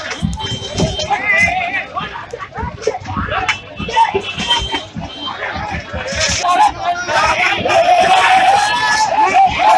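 A large crowd gathered around a street fight in Dharavi, Mumbai, yells and shouts in a dense, chaotic babble that swells louder toward the end, with voices overlapping throughout.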